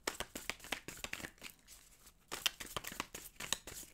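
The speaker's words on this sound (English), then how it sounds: "Okay, one more shuffle." Tarot cards are riffled and shuffled by hand close up, giving quiet rapid papery flutters and snaps in uneven bursts with a short pause midway, and no voices.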